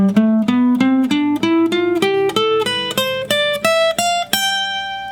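Guitar running an ascending staircase arpeggio in A natural minor, a fast even stream of clean picked notes climbing steadily in pitch, close and alone, finishing on a held high note.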